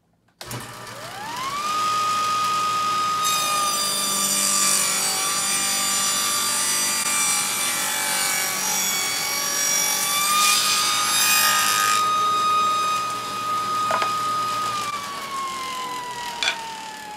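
A table saw spins up with a rising whine and rips thin wooden kumiko strips. A sustained high-pitched cutting screech rides over the motor hum before the blade winds down at the end.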